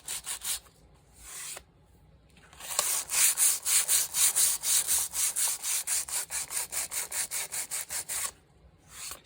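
Sandpaper rubs over a painted cover to blend the colours, with a few short strokes and then a fast, even run of close, raspy back-and-forth scrubs.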